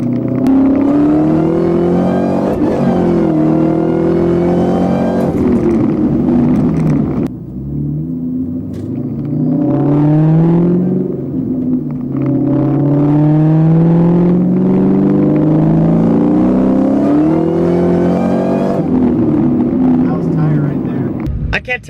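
A car running on E85 fuel accelerates hard with a loud, rumbling engine, repeated revs rising and falling through gear changes as the tires spin, heard from inside the cabin while people talk throughout.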